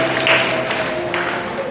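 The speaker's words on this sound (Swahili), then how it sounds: "mnaweza mkapiga makofi kwa pongezi." Applause rises across a church hall at a parish awards gathering in Tegeta, Dar es Salaam, as a small community is congratulated: steady, moderate clapping over a faint sustained tone, with no talk.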